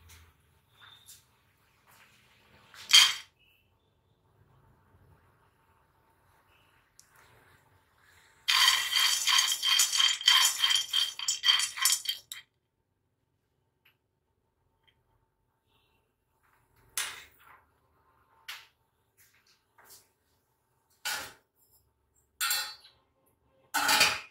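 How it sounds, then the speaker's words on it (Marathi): Peanuts roasting over a low flame in a hot kadhai rattle and scrape in a dense burst of several seconds. Scattered single clicks and short clatters come before and after, with quiet in between. "आपली कढई गरम झाली की आपल्याला शेंगदाणे टाकून घ्यायचे आणि बारीक गॅसवरती"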